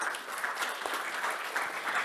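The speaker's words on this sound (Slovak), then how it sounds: "poprosím o potlesk" An audience at a panel discussion claps steadily for the discussants, brisk and fairly close, without talk.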